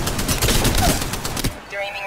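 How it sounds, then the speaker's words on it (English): Rapid automatic gunfire in Apex Legends, a loud close burst of rattling shots lasting about a second and a half before cutting to quieter game ambience. "They spotted me. I'm taking shots."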